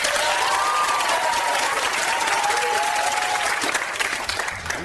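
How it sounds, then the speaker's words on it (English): A television studio audience gives a sustained, loud round of applause to vote for a proposed invention on a comedy game show, the clapping dense and even before thinning slightly at the end, with faint cheering underneath. "By applause, ladies and gentlemen."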